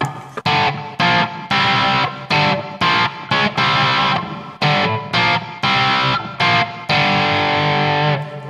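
Electric guitar played through heavy distortion on a riff, loud chunky power chords in short bursts and held notes, close and alone with no talk.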